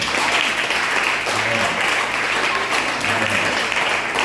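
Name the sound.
congregation applauding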